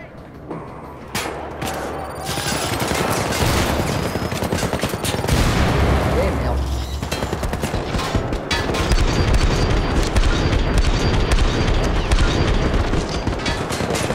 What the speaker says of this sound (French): Allez, grenade.